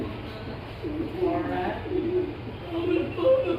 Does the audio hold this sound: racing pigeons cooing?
yes